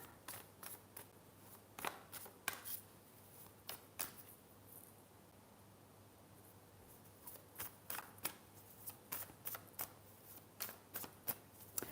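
Tarot cards shuffled in quiet bursts, crisp snapping riffles and taps in irregular clusters separated by near-silent pauses, close by and faint with no talking.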